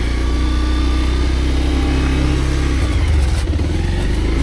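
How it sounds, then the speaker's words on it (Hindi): A motorcycle engine drones and revs steadily on a muddy off-road track slick with snowmelt water, loud and close throughout with small surges in throttle. "ये आप देख सकते हैं इस टाइम भी कैसे बाइक खिसक जाती है"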